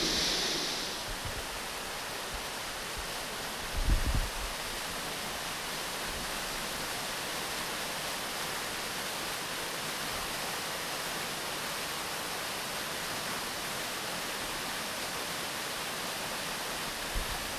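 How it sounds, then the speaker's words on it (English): A constant broadband roar of a large waterfall at McLeod Brook Falls, Walton Glen Gorge, fills the whole stretch, even and unbroken, with a brief bump of handling noise early on. "surrounded by moss and a huge waterfall"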